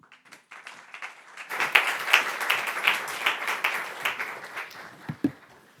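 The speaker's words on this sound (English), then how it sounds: "Please give a warm round of applause to the Director of Cambridge Zero, Professor Emily Shuckburgh." A conference audience at a business summit applauds a keynote speaker, soft scattered claps swelling into a steady moderate round of clapping, heard from a distance.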